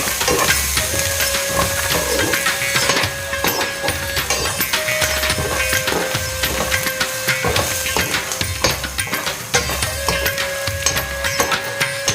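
Groundnuts roasting dry in a pan for a groundnut chutney, a loud continuous rattle and crackle with rhythmic stirring scrapes throughout, no voices.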